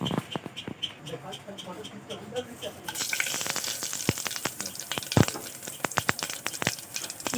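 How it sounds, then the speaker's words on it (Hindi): Whole spices hit hot oil for a chicken dish and burst into loud, crackling sizzle partway through, popping densely and close up after a quieter start with a voice speaking. "तेल गरम हो चुका है और इसमें हम खड़े मसाले डालेंगे"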